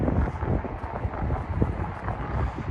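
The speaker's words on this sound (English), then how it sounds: "Getting a little windy now." Gusting wind buffets the microphone on an outdoor park trail near Lexington horse farms, a steady low rumble that swells and dips throughout without any talk.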